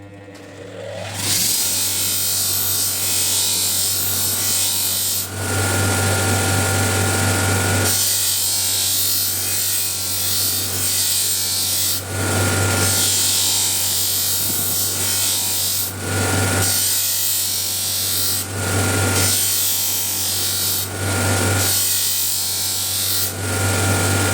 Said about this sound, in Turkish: Bir tane de benzer bir bıçakta 40 kum zımparayla yapayım.